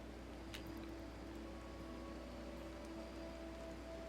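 Soft steady rain falls in the video game RimWorld, a faint even hiss with no distinct drops or other sounds.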